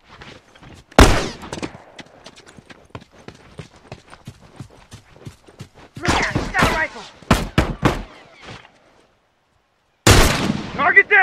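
Hunting rifle shots in The Last of Us, fired on the University level, come as several loud, sharp cracks with short gaps between them, each followed by a brief echoing tail, over quieter game ambience.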